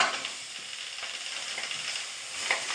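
Green chillies, okra, tomatoes and onion frying in a little oil in a pot on the stove, a steady crackling sizzle with light stirring clatters and no talking.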